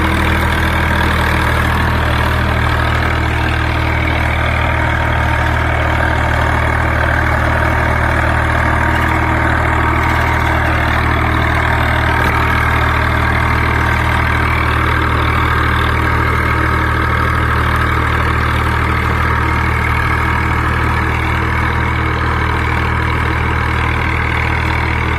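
A 1996 Swaraj 735 tractor with a 39 HP engine runs steadily at a constant loud drone while working a field, with no voices and no change in pitch throughout.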